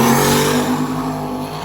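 A 4WD Chevy truck and an F-body car drag racing in a True Street final, their engines a loud, sustained, close roar that holds steady throughout with no talking.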